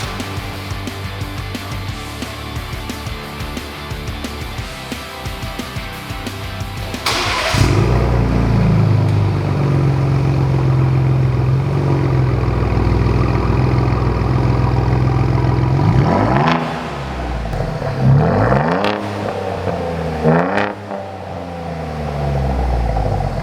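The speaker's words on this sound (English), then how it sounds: "We just installed the MRT King of the Hill axle back with their dual exhaust Black Ops tips" A 2021+ Ford Bronco fitted with an MRT King of the Hill axle-back dual exhaust and Black Ops tips fires up from a steady background hum, settles into a loud rumbling idle close by, then gives several sharp revs before returning to idle.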